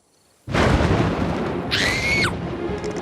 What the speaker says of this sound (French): rien, c'est juste le tonnerre.